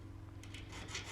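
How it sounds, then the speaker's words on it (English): A fret dress file rasps across a guitar fret held in a wooden vise, making a short, faint, soft scrape that grows slightly toward the end. "I'm going to take my fret dress file."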